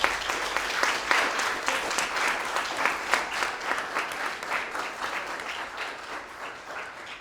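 A graduation ceremony for final-year secondary students in June 2020, where the audience gives steady, dense applause for the teachers and educators. It keeps an even roar for about seven seconds and eases off slightly at the end.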